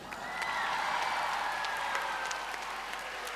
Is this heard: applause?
yes